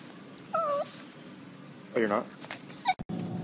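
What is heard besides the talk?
dog whimpering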